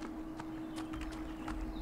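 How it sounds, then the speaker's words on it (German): Horse hooves clip-clop at a walking pace in the farming video game Everdream Valley, a quiet, fairly close series of irregular taps over a steady background tone. "Kommt, wir bringen das Pferd nach Hause."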